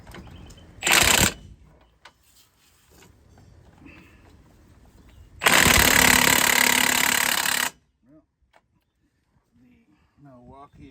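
Milwaukee impact wrench working caliper mounting bracket bolts on a 2003 Chevrolet 2500HD during a hub replacement, giving a short loud burst and then a longer hammering run of about two seconds, with quiet talk in the gaps.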